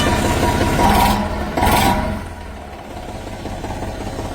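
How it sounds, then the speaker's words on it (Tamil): A long-stroke tractor diesel engine starts and runs loud and close, with a steady rumbling idle and a couple of brief revs before it settles. "இந்த இன்ஜினை வந்து ஸ்டார்ட் பண்ணி காமிக்கிறேங்க. சவுண்டு எப்படி இருக்குன்னு பாருங்கள்."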